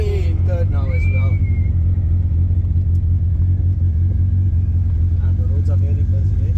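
A car with a swapped-in, fully forged VR6 engine pulls hard in third gear, its deep engine drone loud and steady throughout, with voices talking over it at moments.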